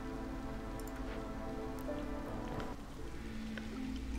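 Steady drizzle from the video game Against the Storm, a constant hiss of rain falling on surfaces with faint scattered drips, even and unbroken throughout.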